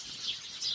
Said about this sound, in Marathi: चिमण्या कशा ओरडतायत बघ.